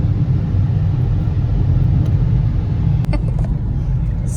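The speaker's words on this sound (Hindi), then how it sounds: "देखो इतनी ट्रैफिक हो रही है" Busy road traffic, with cars driving past, makes a continuous heavy rumble that stays loud and close throughout, broken by a few faint higher clinks near the end.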